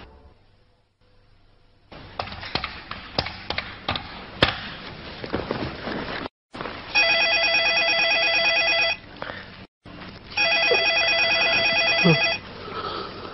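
Telephone ringing in two long trilling bursts separated by a brief pause, loud and close, following a stretch of clattering knocks and taps.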